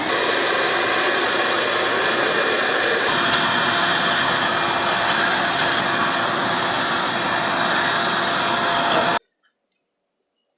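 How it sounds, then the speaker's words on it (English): A vacuum cleaner cleans out an air duct with a loud, steady roar that shifts slightly in tone midway, then cuts off abruptly near the end. "And then vacuum. Just run it down"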